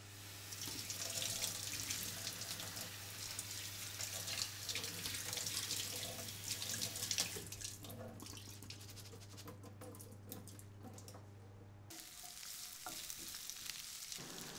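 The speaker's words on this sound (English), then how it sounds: "So just give it a good rinse." Tap water runs steadily over wheat grain like bulgur being rinsed in a kitchen sink, a continuous close rushing splash that shifts and thins near the end, with a low steady hum underneath.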